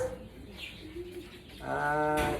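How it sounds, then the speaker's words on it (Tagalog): Young pigeons being vaccinated before being taken to Batangas, with soft cooing and chirping calls near the microphone, growing louder and more continuous in the second half. "Magbabaksin tayo ngayon ng mga young bird na mga dadalhin ng Batangas"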